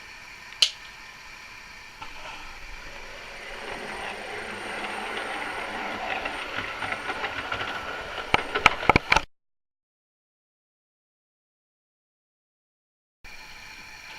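A favourite model locomotive runs along a layout, giving a steady rolling rumble with a sharp click near the start and several rail clicks near the end before it drops to silence, then faint noise resumes.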